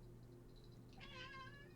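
A house cat gives a single short meow, faint and somewhat distant, rising over a steady low background hum near the end of the moment.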